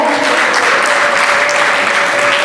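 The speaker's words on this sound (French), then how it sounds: "est-ce qu'on peut acclamer fortement?" A wedding audience applauds loudly and steadily, a dense continuous clatter of clapping with faint cheering under it, close and full.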